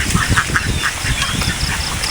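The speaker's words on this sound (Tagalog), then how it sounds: "kasi may nakakulong rin ako ng mga pato" Penned domestic ducks quack repeatedly in short, raspy bursts, close and loud against a busy outdoor farmyard background.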